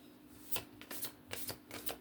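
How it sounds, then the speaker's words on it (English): A tarot deck is shuffled close by in quick riffling bursts, several crisp papery flutters and snaps over about two seconds, with no voices. "I shuffle these decks like really good in between reads."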